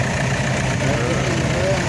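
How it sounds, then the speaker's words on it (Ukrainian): A small engine idles steadily right after a timing belt replacement, oil change and new filters, a close, even low rumble that runs without change for the whole stretch. "Моторча, яке працює дуже добре"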